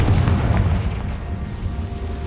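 Confringo fire spell exploding in the Hogwarts Legacy video game, a loud booming blast with dense low rumble that sustains through the whole moment, with no voices over it.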